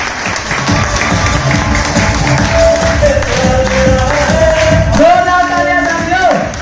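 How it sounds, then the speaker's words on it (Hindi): An audience breaks into applause, a dense, loud and sustained clapping from a crowd that continues throughout, with a voice and some cheering rising through it toward the end. "None another then mister Deepak Kumar प्रोमीना। जोरदार तालियों के साथ में।"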